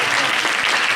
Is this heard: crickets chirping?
no